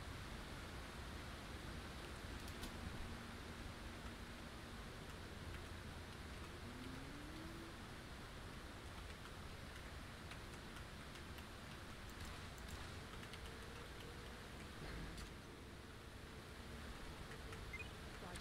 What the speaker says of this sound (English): No, it's definitely water.